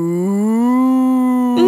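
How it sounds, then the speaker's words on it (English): A loud, drawn-out cow moo in a children's farm song, a single rising bellow lasting over a second and heard alone. "No, Bartolito, that's a cow!"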